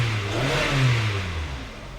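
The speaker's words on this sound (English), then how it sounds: "I'm gonna rev up the engine. You can hear the engine rev" A Hyundai car engine with a transmission stuck in park revs up from idle, a steady mid-range drone swelling and easing back, close and fairly loud with no talking.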